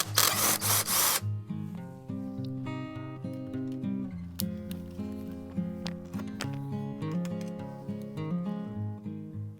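Power drill drives screws into a recliner seat frame, loud close whirring bursts that rise and fall in pitch as the motor strains, repeated in short pulses one after another.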